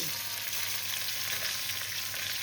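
Bean pods are added to a pan of frying vegetables for a spinach and bori dish, giving a steady, bright sizzle of hot oil that holds constant and close without any talking.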